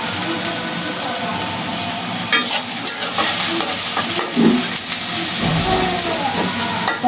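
Plenty of onions sizzle in hot oil in a pan and are stirred now and then, giving a steady loud hiss with scraping and clinking from the spatula, plus brief bits of speech.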